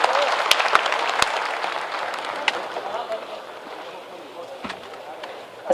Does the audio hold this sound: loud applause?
yes